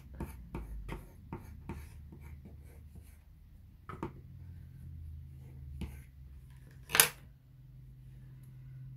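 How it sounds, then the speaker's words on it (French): A run of short, dry scraping strokes as the thin side of a bone folder scores paper, close up in a quiet room, with one sharp tap near the end. "avec le côté fin du plioir, je viens marquer l'angle"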